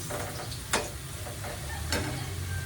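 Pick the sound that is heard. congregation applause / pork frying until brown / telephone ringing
pork frying until brown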